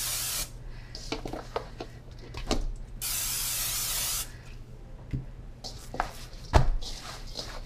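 Cooking spray hissing onto a pan of dough for bear paw buns, one steady burst of about a second amid clattering kitchen knocks and handling noise close by.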